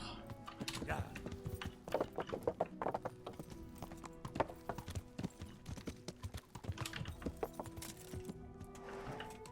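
Horse hooves clip-clop at a steady walking pace, fairly close, with soft tonal music running underneath, in the video game Kingdom Come: Deliverance.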